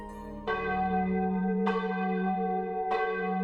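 A large bell rings three times at a slow, even pace, each strike loud and resonant with a long humming decay overlapping the next.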